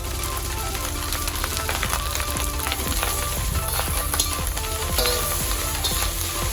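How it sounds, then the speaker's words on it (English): Vegetables tipped into frying chicken rice in a hot pan set off a loud, continuous sizzle and crackle with occasional stirring scrapes, and no voices. "Now I'm going to add all my vegetables."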